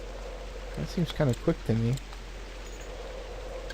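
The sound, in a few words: rain in video game Novus Inceptio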